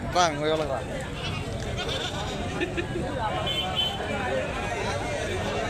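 Rams bleat at the weekly Badvel livestock market, one clear close bleat at the start followed by fainter calls amid a busy crowd murmur, while someone talks throughout.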